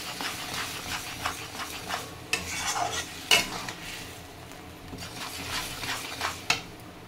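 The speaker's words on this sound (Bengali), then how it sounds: "ভালো করে নেড়ে নেব" A spatula stirs fish with turmeric in a frying pan, with soft scraping strokes and sharp metallic clinks against the pan over a low sizzle, close and uneven in rhythm.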